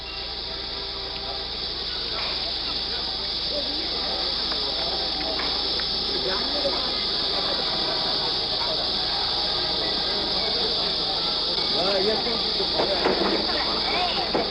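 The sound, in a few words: cicadas chirping on a summer afternoon in Shanghai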